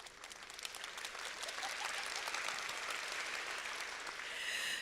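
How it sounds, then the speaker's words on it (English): Debate audience claps for a clap-o-meter vote, dense applause from a crowd that starts softer and builds to a fuller, steady level, heard from a distance. "Start clapping quietly and gradually increase."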